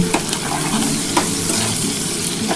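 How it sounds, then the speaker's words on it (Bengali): Onions with salt fry loudly in a pan while being stirred, making a dense, close sizzle with occasional scraping clicks from the utensil and no talk. "এবার এটা ভালো করে একটু ভাজা ভাজা হলে তার মধ্যে কিন্তু আমি মশলাটা দিয়ে দেবো"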